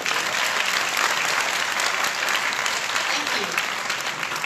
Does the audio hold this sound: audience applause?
yes